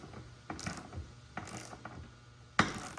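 A ratchet wrench tightens the wheel lug nuts on a KRX 1000 side-by-side, with three clicking ratchet bursts and a sharp metallic clank at the end, close and fairly quiet.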